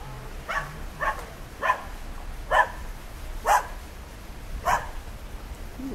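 A dog barking outdoors along a jungle road on the Big Island of Hawaii, six sharp barks spaced roughly a second apart, moderately distant and alone.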